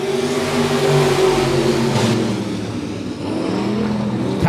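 Midwest Modified race cars launching at the green flag of a heat race at Monett Motor Speedway, engines revving hard in a loud blended roar that eases slightly midway, then builds again.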